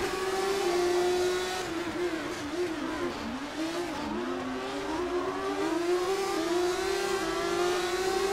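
A GP3 race car on a qualifying lap at the 2015 Russian round, running fresh wet tyres, roars loud and close. The engine pitch climbs, dips and climbs again through gear changes without a break.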